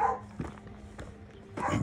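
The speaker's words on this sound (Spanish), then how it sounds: "ay, los perritos como andan con hambre, yo creo." Dogs barking in a rural setting, a few short barks spaced through the moment, moderately close with some background movement.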